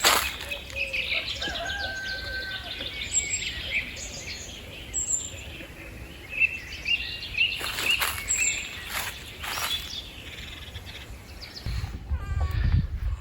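Birds chirp and call intermittently outdoors on a rural spring homestead, faint and fairly distant against a soft background, with a brief rustle near the end.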